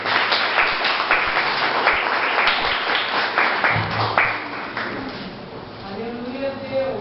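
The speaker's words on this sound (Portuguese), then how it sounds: "Aplaude o nome do Senhor Jesus" Church congregation clapping during a sermon, sharp scattered claps for a few seconds that fade into a voice speaking.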